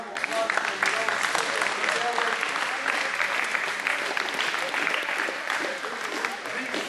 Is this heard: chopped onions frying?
no